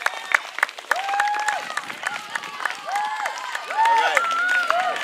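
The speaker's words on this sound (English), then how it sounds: "give your coaches a round of applause for the hard work they put in throughout the week" Children at a pro soccer clinic final clap and cheer for their coaches, a lively mix of applause and high-pitched shouts and whoops that swells louder toward the end.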